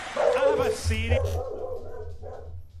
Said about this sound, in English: that was my dog going off